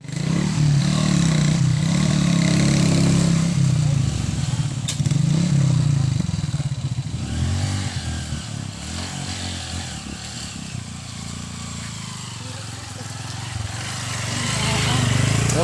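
A motorcycle engine drones loud and close for the whole stretch, its pitch wavering and rising as the bike labors over a very bad, rough dirt road on Polillo Island, with rattling and scraping from the ride and faint voices underneath.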